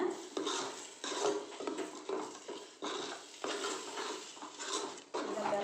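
Spoon stirring chicken salna ingredients in a pan, repeated scraping strokes with clinks against the metal and faint sizzling underneath.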